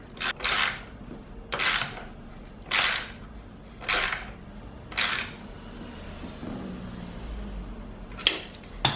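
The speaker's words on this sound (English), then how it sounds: "with the 19mm wrench on the nut, you can start pressing in the bearing" A 19mm wrench turning a nut on a press tool to push a heim joint bearing into a KTM swing arm: five evenly spaced bursts of ratcheting, each about half a second long, followed by two quicker clicks near the end, close up.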